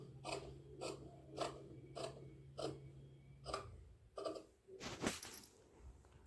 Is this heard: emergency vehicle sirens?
no